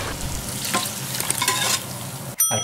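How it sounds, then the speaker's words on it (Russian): Chopped cilantro hitting hot oil for Korean-style daikon kimchi, giving a steady close sizzle with stirring scrapes throughout, ending in a short sharp clatter near the finish. "И теперь я добавляю сюда резаную кинзу."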